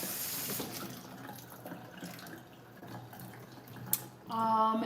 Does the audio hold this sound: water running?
yes